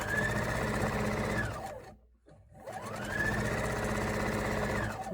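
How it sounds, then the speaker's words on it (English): A sewing machine runs fast while stitching quilt pieces together, a loud buzzing whir that winds down to a brief pause and then speeds back up to full pace. "This is how I sew all my quilts together."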